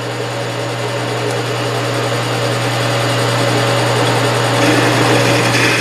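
A milling machine takes a 20-thousandths-inch reverse boring cut on a scissor knurl part, a loud steady mechanical whine and hum that runs unbroken and slightly builds toward the end.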